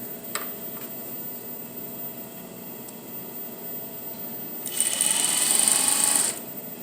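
A sewing machine stitches a skirt to its bodice, running in one loud, close, steady burst of rapid whirring after a quiet stretch with a few faint clicks.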